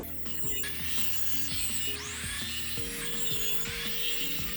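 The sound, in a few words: cutting scrap pieces for DIY wall decor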